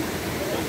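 Donggupit waterfall in Ngancar village gives a steady, full rush of falling water, close and unbroken through the short moment, with a voice faintly present.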